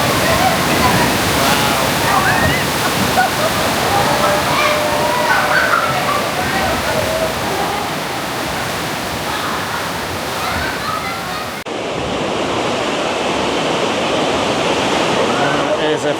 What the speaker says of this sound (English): The ocean's so rough